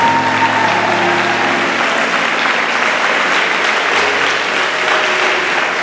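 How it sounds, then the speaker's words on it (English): A crowd at a farewell gathering applauds a musician, sustained loud clapping that fills the room evenly from start to finish, with a faint musical tone lingering underneath early on. "Please give him a round of applause."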